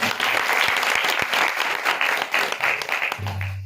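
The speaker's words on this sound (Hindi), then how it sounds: "जोरदार तालियां" An audience claps loudly at a village Bhagwat Katha religious gathering in Salehpur, dense continuous clapping with a few sharp individual claps, easing slightly toward the end.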